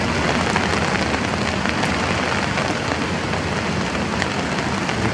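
Heavy rain pours onto a slick mountain trail on Mount Kerenceng in the rainy season, amid stormy winds; a loud, dense, unbroken patter fills the whole stretch with no voices.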